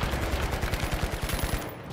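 Gunfire rattles through a video game firefight as a rapid, steady stream of loud, evenly spaced shots lasting about two seconds, with no talking.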